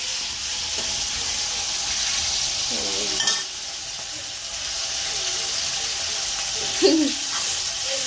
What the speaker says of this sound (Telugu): టమాటాలు అయితే మంచిగా మగ్గుతున్నాయి ఫ్రెండ్స్